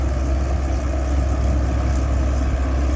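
A Komatsu PC120-5 excavator engine idling with no load, a steady low diesel rumble held at constant loudness throughout with no voices.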